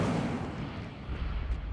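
A fiery Incendio spell from Hogwarts Legacy bursts out as a dense, roaring whoosh of flame, loud and full-bodied, sustained briefly with a rumbling low end before tapering off.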